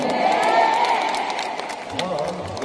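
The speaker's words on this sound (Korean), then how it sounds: "많은 박수 보내주실 수 있죠." Fans at a live stage event clap and cheer for performers, with excited shouts and whoops over steady applause throughout the short stretch.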